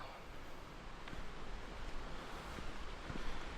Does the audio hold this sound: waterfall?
yes